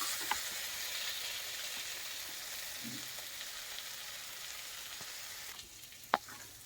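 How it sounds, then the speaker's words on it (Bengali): Pointed gourd and prawns fry in a pan with a steady, soft sizzle that runs throughout, and a few faint clicks and knocks of stirring near the end. "আর একটু ভাজি,"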